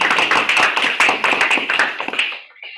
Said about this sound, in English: Please a round of applause for Toastmaster Donna.